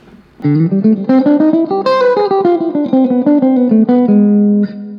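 Loud, bright electric guitar notes through an Orange CRUSH-20RT transistor amp played in a quick melodic run, sustained and slightly compressed, ending on a held note.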